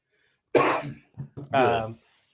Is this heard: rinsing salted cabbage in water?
no